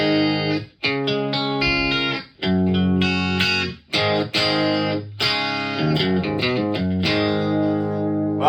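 An electric guitar plays a clean tone with no reverb through a 20-watt Blackstar amp, strummed chords and ringing notes in a steady rhythm, clear and close with short gaps between phrases.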